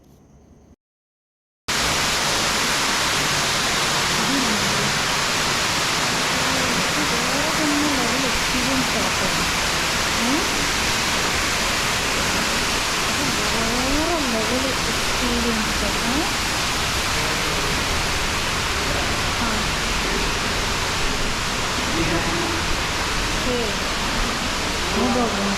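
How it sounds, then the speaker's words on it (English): A waterfall beside a cliff path in Bali roars loud and unbroken, a dense wash of falling water that fills the scene after a brief quiet start. "This is the first waterfall that you will see after entering the cliff path."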